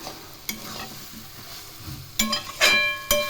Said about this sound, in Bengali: আমি চিনি দেওয়ার পর খুব ভালো করে নেড়ে দিচ্ছি